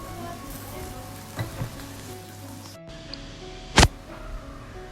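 Chicken marinated with pomegranate molasses and basil sizzles quietly and steadily in a hot pan, a faint soft hiss beneath a low hum, broken by one sharp click near the end.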